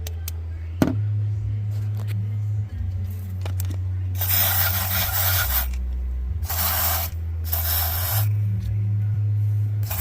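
Three bursts of hissing spray on a Hyundai Sonata with an oil consumption problem, each lasting about a second, over a constant low engine-like hum.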